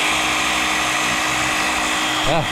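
A Dewalt 20V cordless power washer sprays a loud, continuous hissing, whining jet onto greasy grime, with a brief pitch wobble near the end.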